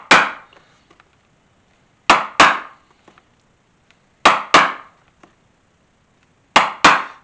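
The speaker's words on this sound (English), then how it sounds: "I just as soon punch the holes myself" Sharp metallic strikes come in pairs, a punch being hammered through leather for a rattlesnake-skin holster three times with pauses between, each impact ringing briefly in a quiet room.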